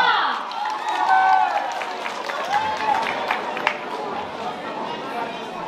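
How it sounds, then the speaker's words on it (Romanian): A school freshman ball crowd at Ștefan cel Mare National College in Hârlău applauds a performer, the clapping mixed with cheering, chatter and raised voices that fill the hall at a fairly loud, steady level. "Aplauze pentru Simona!"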